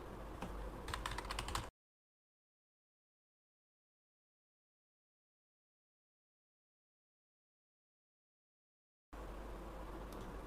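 A computer keyboard clatters with rapid typing of HTML form code, with quick close key taps at the start and end around a long silent gap.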